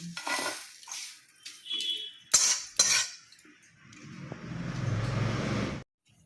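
Dry-fried nigella seed, garlic and dry chilli spice mix poured from a pan, sharp metallic clinks and scrapes of utensils giving way to a steady, close rushing sizzle that cuts off abruptly.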